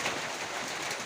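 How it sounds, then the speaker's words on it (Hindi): Rain falling steadily during Ramadan, heard as a constant dense hiss that fills the whole moment without a break, fairly close and even in level. "अच्छा ऐसा बारिश होते जा रहा है।"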